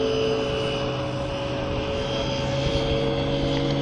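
An RC 3D aerobatic airplane motors along at low throttle, giving a steady, droning propeller-engine hum with a constant pitch and no talk over it.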